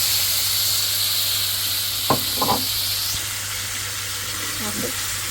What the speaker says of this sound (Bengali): এটা মাছটা সুন্দর করে ভাজে নিচ্ছি